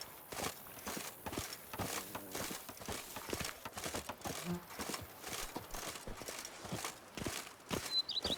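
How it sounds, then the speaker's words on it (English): Horse hooves clip-clop in a steady trot in The Witcher video game, a repeated rhythmic beat near and fairly loud, with faint ambient sound underneath and no talking. "Even a horse trot."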